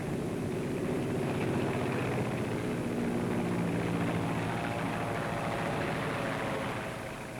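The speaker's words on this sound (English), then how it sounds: "Delivering the message by Cub plane" A Piper Cub propeller plane flies overhead in 1944 wartime footage, giving a steady, loud engine drone that holds throughout and fades slightly at the end.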